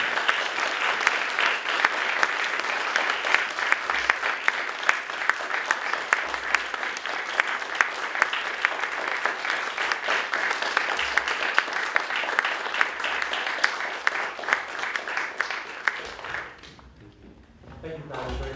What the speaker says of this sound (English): if you could all join me together in a warm round of applause for them